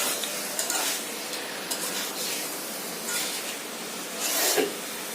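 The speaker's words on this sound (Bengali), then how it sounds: "এই সময় মশলাটা একটু ভালো করে ওর সঙ্গে কষে নেব।" Spice paste sautéed in a pan for a prawn and taro dish, a continuous close sizzle with swelling bursts as it is stirred and scraped, no talking.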